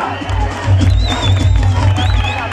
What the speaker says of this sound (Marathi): मित्र, जोरदार टाळ्या वाजवून त्याचं स्वागत करा.